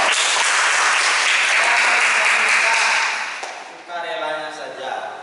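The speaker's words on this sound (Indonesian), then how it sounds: "Tepuk tangan untuk semua kelompok." Applause from a classroom of students cheering all the groups, a dense, loud wash of clapping for about three seconds that thins out, followed by an indistinct voice.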